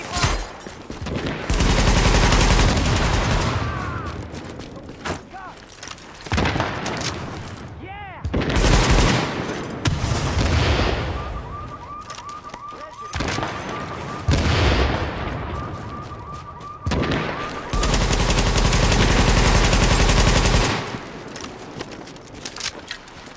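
Gunfire from Tom Clancy's The Division, long loud bursts of automatic fire alternating with short gaps and scattered single shots, close and dense, with voices breaking in between volleys.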